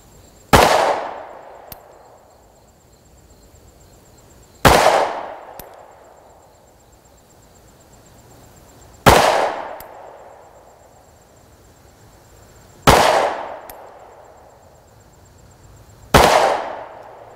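Five loud, sharp gunshots from a Springfield Hellcat 9mm pistol fired at a target, spaced about four seconds apart, each with a short ringing decay. There is no talking.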